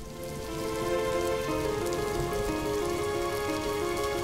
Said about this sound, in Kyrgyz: Асмандан түшкөн жаан тамчылары